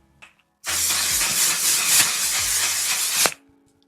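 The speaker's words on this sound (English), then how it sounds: "I'm gonna go with the Until Dawn setting spray" A continuous makeup setting spray mists onto the face in one close, loud hiss lasting about three seconds, then cuts off sharply.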